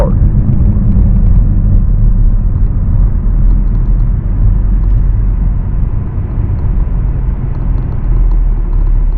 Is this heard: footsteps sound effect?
no